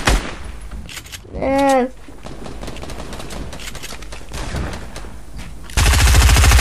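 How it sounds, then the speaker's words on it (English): Fortnite gunfire comes in sharp, rapid bursts of loud shots, with a short tonal whoosh early on, a brief spoken word, and a dense, heavy stretch of continuous fire closing it out. "Alright, take some shots from here."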